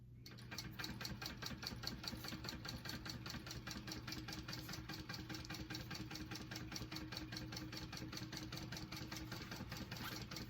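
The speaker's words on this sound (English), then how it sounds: "I'm going to go ahead and top stitch that on" A sewing machine runs steadily, top stitching a fabric clutch bag in one continuous loud, even whirring pass with no talk.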